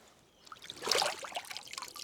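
River water trickles and gurgles into a bottle, a short burst of pouring that swells and then settles, close and fairly quiet.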